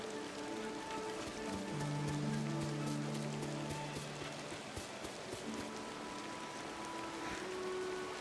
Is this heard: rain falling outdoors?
yes